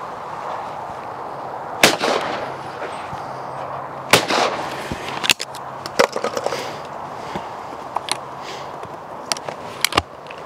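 Several sharp shotgun reports ring out at irregular intervals, a game gun with a 30-inch barrel firing Fiocchi TT 21 gram cartridges at clays outdoors, with a couple of louder blasts and quieter distant-sounding shots among them.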